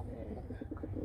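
A male game pigeon being tamed to the hand coos softly nearby, a short run of low rolling pulses set against faint background noise.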